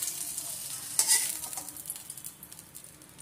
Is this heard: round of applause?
no